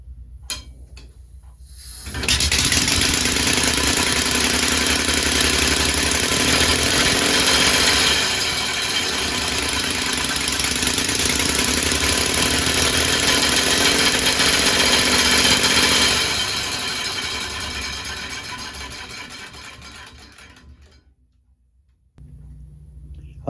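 A small compressed-air piston engine runs with a steady, loud hissing roar for about fourteen seconds, dips briefly midway, then winds down and fades toward quiet.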